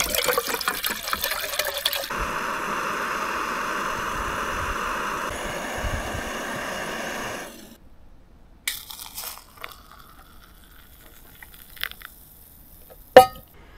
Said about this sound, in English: It's a pain in the ass trying to clean dishes with cold water.